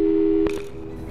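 A steady telephone busy tone in the Portal 2 video game cuts off abruptly after a call, followed by a faint click and a low hum.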